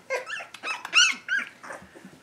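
Three-week-old puppies growl and squeal while playing rough, a close, uneven run of small yaps, whines and grumbles in short bursts.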